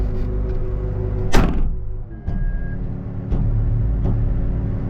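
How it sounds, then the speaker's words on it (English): A door being shut during outdoor tree-clearing work: one loud slam near the start, followed by a few fainter knocks over steady low background rumble. "Shut this door."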